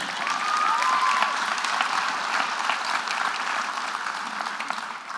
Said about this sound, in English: I'll clap them.